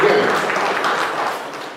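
An audience at the Viksit Krishi Sankalp Abhiyan 2025 inauguration ceremony applauds, a dense, steady wash of clapping that fades slightly over a couple of seconds.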